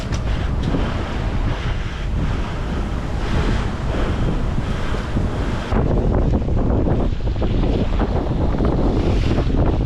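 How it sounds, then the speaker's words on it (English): Waves breaking on a bar crossing off the Australian coast, heard from a sailboat as a loud, continuous rush of surf mixed with heavy wind buffeting the microphone, with no voices. "Can you guys see that breaking wave?"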